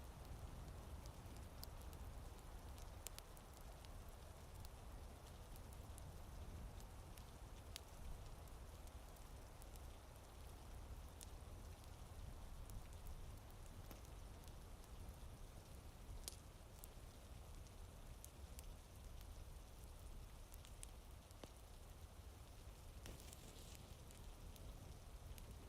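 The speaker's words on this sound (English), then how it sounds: "The rain makes contact with the walls which you should listen to at this moment." Steady rain patters against the stone walls of a great Mediterranean lighthouse, a dense continuous hiss with scattered sharper drop ticks, no voices.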